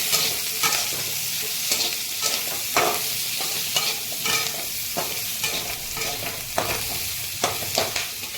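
Onions frying in a pan for homemade mixed fried rice, a continuous loud sizzle broken by repeated scraping stirs of the spatula at an irregular pace, with no talking.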